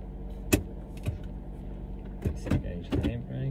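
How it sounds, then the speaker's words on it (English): Car power windows close with a faint motor whir, broken by several sharp clicks and thumps of switches and trim, quiet and near inside the car. "You can actually close these windows."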